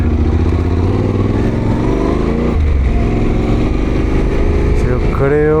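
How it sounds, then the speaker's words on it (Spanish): A heavily loaded adventure motorcycle revs hard and loud on a steep uphill trail as its rear wheel slips, the engine note wavering and climbing while it struggles for grip. "obviamente la moto con el peso va a patinar"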